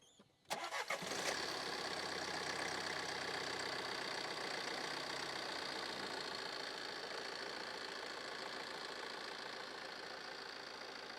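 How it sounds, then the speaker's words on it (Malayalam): A Tata Aria 2.2 diesel engine, bonnet open, cranks and catches within a second, then settles into a loud, steady, slightly knocking diesel idle close by for the rest of the clip. "ഒരു വണ്ടി ഇനി ഒന്ന് സ്റ്റാർട്ട് ചെയ്ത് നോക്കാം സ്റ്റാർട്ട് ചെയ്തോണേ"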